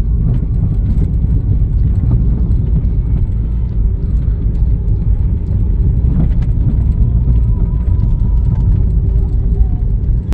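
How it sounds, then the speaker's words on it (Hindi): A Honda Civic Reborn with loose, worn suspension driven over a broken road: steady low cabin rumble with scattered knocks and rattles from underneath, continuous road noise throughout. "ये तो आवाज़ थी गाड़ी के सस्पेंशन की"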